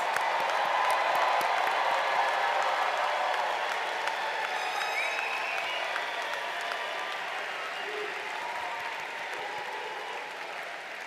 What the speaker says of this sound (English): Let's give all of our new graduates a big round of applause.